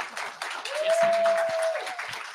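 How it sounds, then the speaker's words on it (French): Audience applause for the speakers at a French product design and tech talk, a steady wash of clapping lasting a couple of seconds with a sustained tone and faint voices underneath. "je vous demande de les applaudir"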